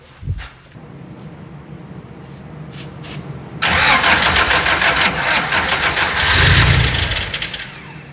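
A Toyota AE86 with a newly fitted starter cranks briefly, then catches and fires, settling into a loud, close idle with a rev swelling near the end.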